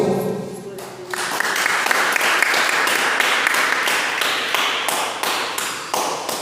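A church congregation at a healing and deliverance service claps in praise, breaking into a loud steady rhythmic clapping that carries on evenly after a brief quieter start, with voices faintly underneath.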